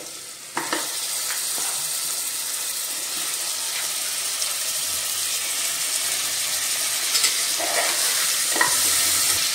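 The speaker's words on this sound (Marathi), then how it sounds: "आता आपण स्वच्छ केलेले चांगले बकऱ्याचे पाय घालूया ह्याच्यामध्ये।" Cleaned goat trotters frying and being stirred in hot oil in a pan for mutton paya soup: a constant loud sizzle with intermittent scraping and clattering of a spoon against the pan.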